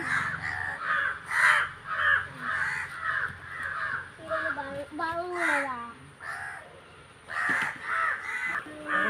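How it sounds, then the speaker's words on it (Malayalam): A flock of crows gathered where fish was laid out for a cat caws loudly in repeated harsh bursts, some near and some farther off, while people talk now and then. "ഈ കാക്ക കരയുന്നത് കാരണം ഒന്നും കേൾക്കാൻ പറ്റൂല"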